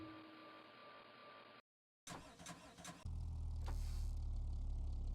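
A car engine being tuned in Revhead starts up and revs after a brief silence, sputtering bursts giving way to a loud, steady low running drone.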